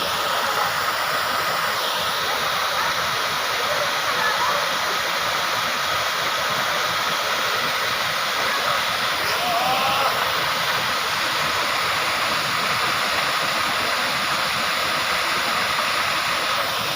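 A steady, dense rush of falling water roars continuously and loudly, unbroken throughout, with no voices.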